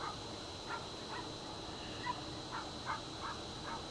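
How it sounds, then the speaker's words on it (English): A dog barks repeatedly in the distance outdoors, faint short yaps spaced across a steady hiss of background noise. "across the way there's a dog that's barking at me"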